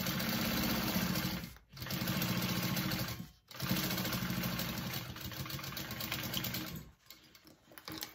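A sewing machine bastes fabric for a crossbody wallet, a steady rapid mechanical whir of stitching that stops briefly three times before running again.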